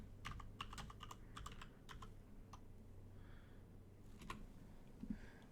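Quiet clusters of computer keyboard typing, a few quick key taps at a time with short pauses between them, close and soft with no voices.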